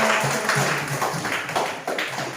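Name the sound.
audience applause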